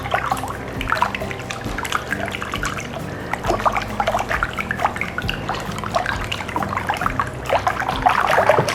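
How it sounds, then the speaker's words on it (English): Eggs and kosher salt are whisked in a bowl for a brunch dish, making a busy, continuous liquid sloshing with quick clicking strokes. It stays close and fairly loud throughout, with no talking. "And now you wanna whisk. You want to really make sure those eggs are folded in."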